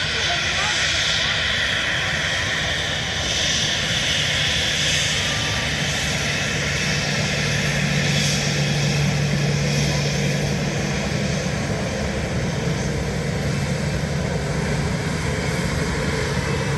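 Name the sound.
Ryanair airliner taxiing and taking off at Dublin Airport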